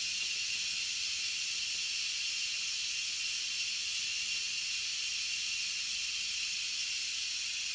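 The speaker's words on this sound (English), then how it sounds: "Now I'm going to show you how to safely let the pressure out." An Instant Pot's pressure release valve vents steam while cooking chicken tortilla soup, a loud, constant high hiss that holds steady and unbroken throughout.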